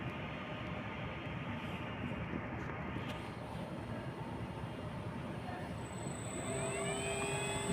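An electric motor driven by a Lenze StateLine C 3 kW variable frequency drive runs at a steady speed, giving a faint continuous hum and whine, with a tone rising near the end.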